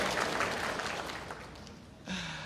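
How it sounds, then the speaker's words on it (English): An audience at a healthcare quality symposium claps in a dense patter that slowly fades, followed by a short sharp cheer near the end. "a round of applause, that'll do"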